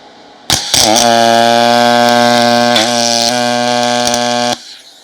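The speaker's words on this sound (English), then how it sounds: "So we're just going to weld this in place." A steady, loud electric buzz with a fixed pitch as a steel plate is welded in place inside a custom PC build fitted with a car radiator. It starts abruptly, holds for about four seconds with a few brief crackles, then cuts off.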